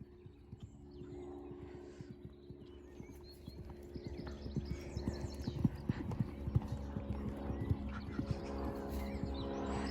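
A horse's hooves clip-clop steadily during a jumping lesson, the footfalls growing louder and denser over a low rumbling background, with a faint voice now and then.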